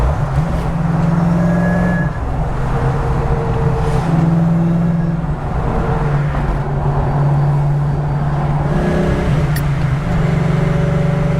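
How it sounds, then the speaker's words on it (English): A supercharged car cruising and pulling in sixth gear gives a steady, loud engine drone with a low rumble that holds throughout, shifting slightly in pitch as it accelerates. "Let's get it into sixth gear and see how the clutch feels."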